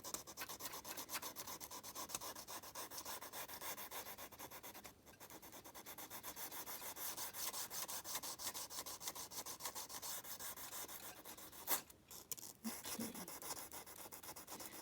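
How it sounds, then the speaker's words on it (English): Steady hand sanding of a metal lock pick on sandpaper, a continuous close rasping rub that runs almost the whole time with a couple of brief pauses. "So when you feel like the bit of sandpaper is not grabbing it anymore, not biting, then move to another piece."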